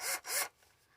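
Two short broadband rasping strokes of a piece of metal being drawn across a hand file to reduce its diameter, close and fairly loud, followed by quiet.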